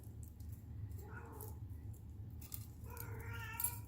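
A pet cat gives a couple of drawn-out, talkative meows, faint and close, over a low steady hum in an indoor room.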